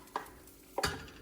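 A utensil scraping cooked mung dal out of a pan, two short scraping strokes with a faint sizzle, close and fairly quiet with no talking.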